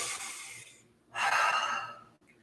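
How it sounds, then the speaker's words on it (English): Slow, deep breaths during a yoga workout: a long airy exhale, a short pause, then a fuller breath swelling up close and loud before tapering off, with no talking. "Take a couple breaths."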